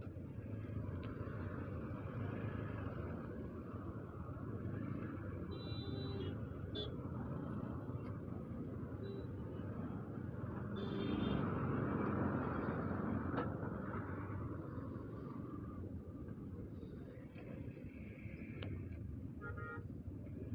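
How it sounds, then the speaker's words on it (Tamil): A road traffic jam stretching far ahead, heard from a motorcycle, with a continuous roar of idling and creeping engines and scattered horn toots near and far. "எங்கே வரைக்கும் கைவெளி வரைக்கும் டிராஃபிக் நிற்குது"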